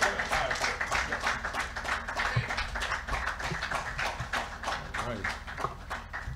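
Crowd applause in a mosque lecture hall welcoming a speaker, steady continuous clapping at moderate distance, with a voice speaking over it throughout.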